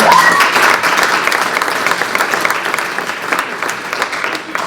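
An audience at a Poetry Out Loud competition applauds, steady dense clapping from many hands filling the hall and slowly tapering, loud and close with a faint voice underneath.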